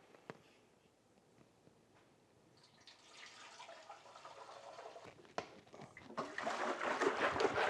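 Water runs and splashes during a baking soda and water rinse on a 1972 Honda CB350, starting with faint drips and building after a few seconds to a steadier, louder rush with occasional knocks.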